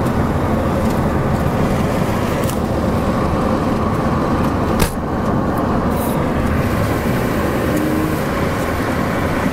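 A 1989 Buick Skylark Custom's 3100 V6 engine hums steadily while accelerating up to 40, with dense road and cabin noise, loud and close, with no pauses throughout.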